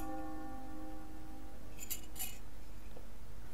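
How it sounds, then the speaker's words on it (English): A metal spoon stirs coffee in a cup, giving two quick, light clinks against the cup over a steady, faint background hum. "That's the sound of my spoon moving."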